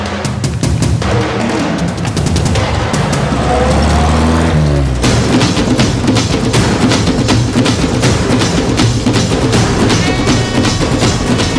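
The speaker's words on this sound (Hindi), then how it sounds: "उस गाड़ी का पीछा करो।" A car engine roars and revs during a film chase scene, with a rising pass-by whoosh, then continuous loud road noise and rhythmic rumble, mixed with dramatic score and a few voices.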